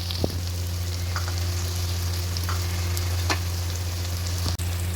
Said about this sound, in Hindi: अब इसमें हम टमाटर डाल देते हैं।